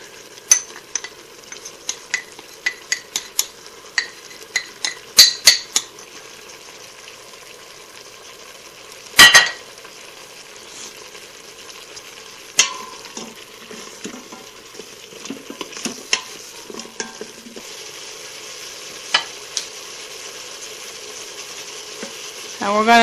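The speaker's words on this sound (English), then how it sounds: "we're going to saute this until those onions turn translucent" Onions and spices sauté in a pan, a low continuous sizzle punctuated by scattered clicks and scrapes of a utensil stirring, with a few louder clatters.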